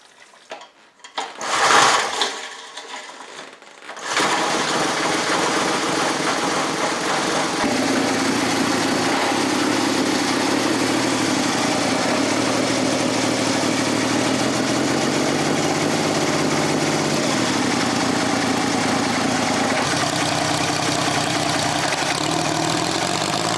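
Homemade three-cylinder Briggs engine on its first start: a brief cranking burst, then a steady, loud, buzzy idle running continuously with slight pitch shifts as the carburetor is tuned.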